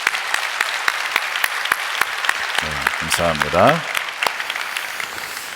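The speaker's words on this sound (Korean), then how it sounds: "우리 모든 영광 하나님께 우리 박수를 올려드릴까요?" A church congregation bursts into applause that runs steady for several seconds, while a voice speaks briefly over the clapping.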